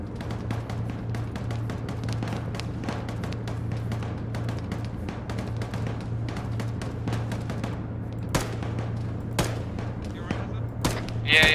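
Gunfire crackles throughout an ArmA battle, a dense stream of distant and mid-range shots with a few sharper, louder cracks near the end, over a steady low hum.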